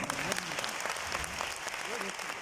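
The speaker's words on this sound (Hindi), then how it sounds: "आप सबके लिए जोरदार तालियां" An audience at a Hindi-language motivational talk applauds steadily, dense clapping filling the hall at a constant level with scattered voices underneath.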